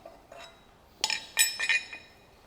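Bright metallic clinks come from a caliper bracket being pulled off the rear wheel of a Ryvid Anthem motorcycle: a few faint taps, then a cluster of sharp ringing clanks near the mic in a quiet room.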